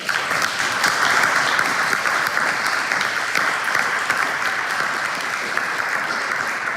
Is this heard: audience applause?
yes